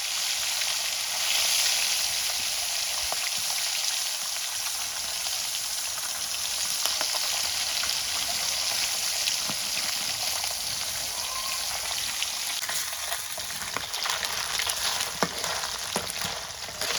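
Small fish coated in salt and turmeric frying in soybean oil in a village kitchen, giving a steady, loud, dense sizzle and crackle that runs without a break, with occasional sharper pops and no talking.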